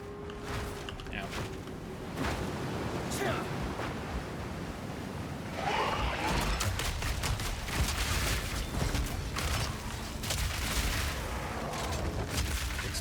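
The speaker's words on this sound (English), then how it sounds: "Explosions." Explosions in the video game Path of Exile 2 rumble as a series of heavy, rolling blasts and booms that build and continue densely through the second half, with a voice talking over them.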